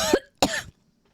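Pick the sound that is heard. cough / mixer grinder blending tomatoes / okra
cough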